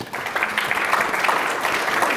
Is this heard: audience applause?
yes